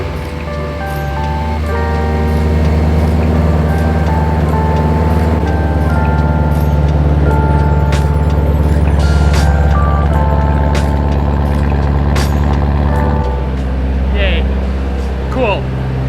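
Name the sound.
BMW E92 M3 engine running after battery charge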